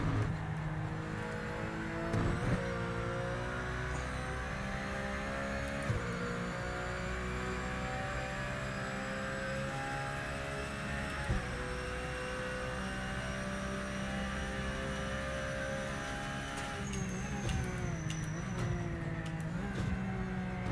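Race car engine in the Project Motor Racing video game, a loud continuous high-revving drone that climbs and drops through gear changes and corners for the whole stretch, with no talking.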